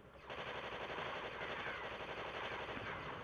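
Sustained automatic gunfire in the mobile shooter Shadowgun Deadzone, a steady, loud, unbroken rattle of rapid shots that starts abruptly and holds for several seconds.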